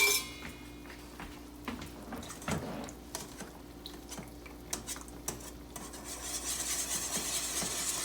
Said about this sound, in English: And we'll just start to whisk it here. We just need to dissolve the demi back